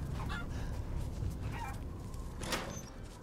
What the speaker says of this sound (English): Poor little chicken just wants to come out